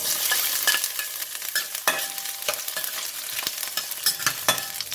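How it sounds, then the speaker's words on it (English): Garlic frying in about two tablespoons of hot oil in a pan, a loud continuous close sizzle with crackles and occasional stirring clicks, no talking. "Oil is hot, so I'm going to put in the garlic."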